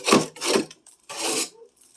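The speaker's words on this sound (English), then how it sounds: "I'm just going to scrape it on the floor here." Ice being scraped out of a deep freezer and dropped onto the floor, two close raspy scraping strokes followed by a third, each lasting about half a second, with no talking.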